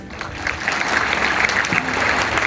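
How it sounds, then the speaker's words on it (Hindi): Steady audience applause at a school celebration of Lala Lajpat Rai's birth anniversary, dense clapping that holds at an even level throughout with no voices over it. "एक बार दोनों हाथ उठाकर ज्योति सैनी के लिए जोरदार तालियां।"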